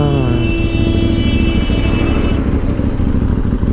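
Mahindra Thar Roxx SUVs passing in a long convoy in Kochi, a loud, constant engine drone and road rumble with a steady tone fading partway through.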